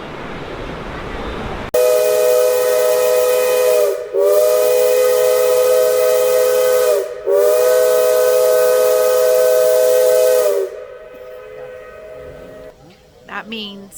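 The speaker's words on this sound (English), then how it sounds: "That means time to get on the train. 4 whistles." Durango and Silverton steam train whistle blowing four loud, sustained blasts with short gaps between them, then fading into a quieter hiss and rumble.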